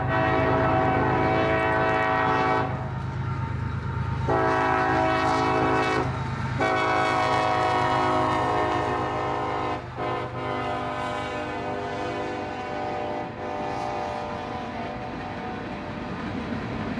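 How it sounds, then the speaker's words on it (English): A CSX freight train, symbol L416, rolls past on the Monon Subdivision near US 421 outside Monon, its loud horn sounding in long blasts over the steady rumble and clatter of the cars, close by throughout with no talk. "driving on US 421 out of Monon, train L416 was seen, passed, and then shot on video for your viewing pleasure"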